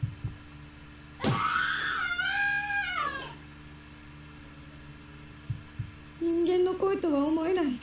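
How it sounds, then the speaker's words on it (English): A boy shrieks in terror in the Corpse Party video game: two long, wavering, high-pitched screams separated by a quieter pause with a low hum underneath. "I've never heard screaming like this before."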